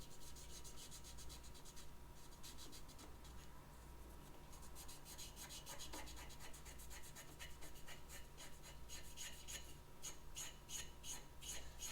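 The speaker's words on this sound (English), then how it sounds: "You can hear me coming across it with the cotton swab, and it's got a little bit of pitting" Cotton swab rubbing polish across a pitted metal machine-hardware plate, a continuous close, soft scratchy rasp with irregular gritty strokes that steadies and grows slightly brighter toward the end, with no talking.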